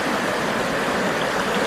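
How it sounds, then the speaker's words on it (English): Cow Creek, a year-round creek on rural California acreage, gives a loud, steady broadband rush of flowing water heard close up with no voices. "Year-round Cow Creek!"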